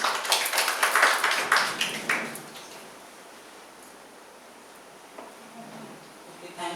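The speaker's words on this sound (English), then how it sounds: "A big round of applause." An indoor audience at an academic session applauds a speaker receiving a memento. Dense clapping is loud at first, then fades over a few seconds into quiet room noise.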